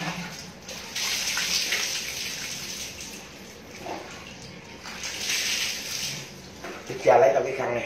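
Water runs from a tap during face washing after an activated charcoal skin treatment, a close rushing stream that swells and fades in bursts, with a voice briefly heard near the end.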